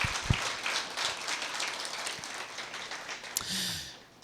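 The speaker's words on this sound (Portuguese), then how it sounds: "Aplauda o nome de Jesus." A church congregation gives soft, distant applause during a celebration service, a faint wash of clapping with a few louder claps and a breathy swell near the end.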